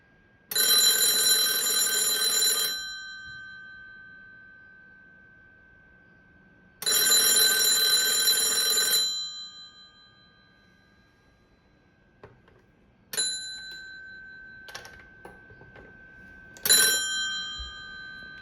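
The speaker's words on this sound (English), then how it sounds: "the best part of the video is the ringing demonstration" A 1944 Danish TelefonFabrik Automatic M36 telephone bell rings loudly in two long bursts, followed by a few short clangs, with quiet pauses between.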